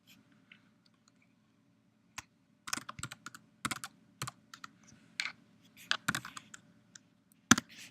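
Keys on a computer keyboard clatter in quiet, irregular bursts of light clicks while a web access ID is entered, with a soft background hum and no talking.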